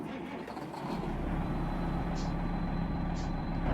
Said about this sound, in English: Let's hear it start up again. See if we can hear the turbo spool up.